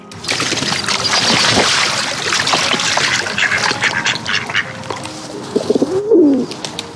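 Outdoor birdsong with pigeons cooing and a duck quacking near the end, over a constant wash of background ambience.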